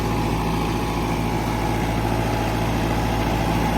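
Agri Master 804 tractor engine running with an Al Qasim super seeder attached, a loud, steady low diesel drone with even throbbing, close by and without talk.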